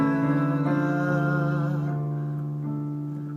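A piece plays as a sustained, droning harmonic texture that holds steady and slowly fades, with no clear drum hits standing out.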